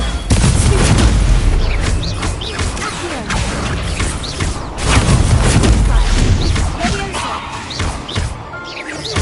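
A magical blasting-curse explosion effect: a dense, sustained barrage of booming, crashing blasts with heavy low rumble, loud and continuous throughout with no pauses.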